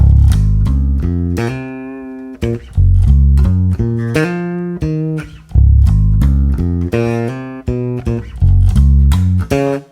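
Electric bass guitar plays a full section of a song, a steady groove of deep plucked notes with short gaps between phrases, loud and alone with no talking.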